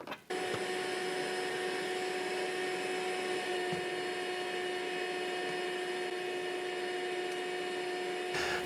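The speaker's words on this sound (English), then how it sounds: "it redirects the exhaust wind up and away from the vacuum" A shop vacuum fitted with an exhaust deflector starts up and runs with a steady, loud whine and constant airflow roar, then cuts off near the end.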